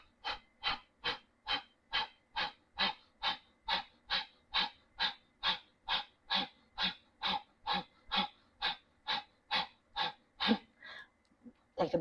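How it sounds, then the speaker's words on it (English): Rhythmic, forceful nasal exhales repeat in a steady series of about twenty-five quick puffs, close and clear, in a guided breathing exercise with lips held together, ending in a brief pause. "So you're going to exhale out your nose, let the inhale come naturally."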